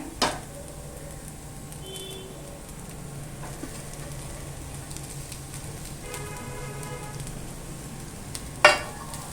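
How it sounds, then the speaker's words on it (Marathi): Freshly grated coconut roasting in a pan after onion and garlic, a faint low sizzle with occasional soft stirring knocks, heard alone. "ओलं खोबरं पण ना छान गुलाबी होईपर्यंत ना भाजून घेऊया"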